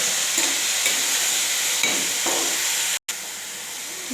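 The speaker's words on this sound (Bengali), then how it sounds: "এবার আলুটা ধুয়ে নিয়েছি, আলুটাই ঢেলে দিব।" Washed potatoes and cabbage hitting a hot frying pan, a loud continuous sizzle and hiss with soft knocks and a brief sudden cut near the end.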